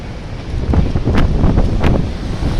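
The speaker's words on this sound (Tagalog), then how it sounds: "ang lakas ng hangin." Strong wind gusts buffet the microphone outdoors, a steady, loud broadband roar with a few sharper rushes and no speech.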